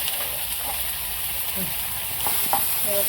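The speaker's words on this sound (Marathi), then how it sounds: "लसूण थोडासा लाल झाला का आपण त्यामध्ये कांदा चांगला परतून घ्यायचा" Onion stirring and sautéing in hot oil with garlic, cumin and curry leaves for a homestyle Maharashtrian curry, a steady frying sizzle under a few soft spatula scrapes, close by, with a voice speaking briefly.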